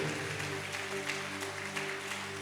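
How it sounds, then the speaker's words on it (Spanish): A church congregation applauds in a steady, sustained wash of clapping heard from within the hall, with a low sustained tonal hum beneath it and no one speaking. "Dale un fuerte aplauso al Rey de Reyes y Señor de Señores."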